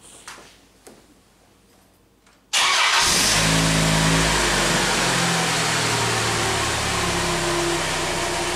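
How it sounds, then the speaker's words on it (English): Chrysler Sebring engine cranking and catching after a few faint clicks, then settling into a loud steady idle close by, during an EVAP system test. "Let's start the car again."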